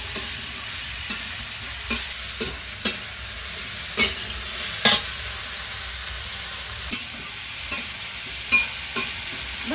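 Hilsa fish frying in a pan for a monsoon hilsa curry, a continuous loud sizzle punctuated by sharp clicks and scrapes of a utensil stirring at irregular intervals.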